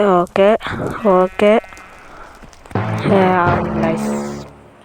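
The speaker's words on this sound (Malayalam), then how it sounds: "ആട് വിശക്കുന്നുണ്ട്" A hungry goat bleats several times in quick, loud, wavering calls, followed by a longer drawn-out bleat, with some rustling in between.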